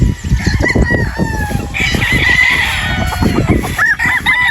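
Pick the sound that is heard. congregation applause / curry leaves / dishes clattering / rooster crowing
rooster crowing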